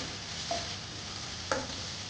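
Ingredients for ragi soup fry in oil with a soft, steady sizzle, faint and close, broken by two light stirring scrapes of a utensil.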